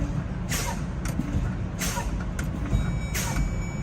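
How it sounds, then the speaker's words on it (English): A truck's low air pressure warning alarm sounds in the cab while the air brakes are pumped, with repeated beeping tones over a steady idling engine and bursts of hissing air. "I both hear and see the low air alarm."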